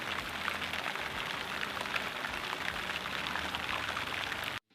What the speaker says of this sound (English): And what a shock, it's raining again.